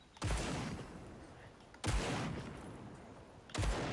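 Three heavy bursts of video game gunfire using spread ammo, each a loud blast with a long rumbling tail, spaced about one and a half seconds apart.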